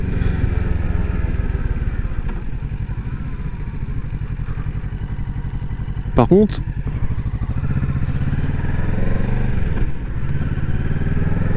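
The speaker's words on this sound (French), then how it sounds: "Le son de la moto, délicieux." A motorcycle engine drones steadily up close, with a brief rising rev burst midway, while someone talks over it.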